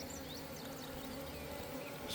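A swarm of bees being moved from a box into a hive, a steady close buzzing hum of many insects that holds level throughout.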